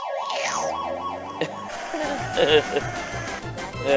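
A wavering electronic ambulance siren wails in the 1989 SNK arcade game Street Smart, loud at first and then giving way to busy game effects with rhythmic thumps.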